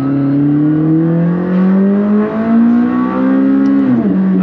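A McLaren 600LT's engine revs loud and close, a steady, rising drone that climbs in pitch over several seconds before dipping sharply near the end, with no voices over it.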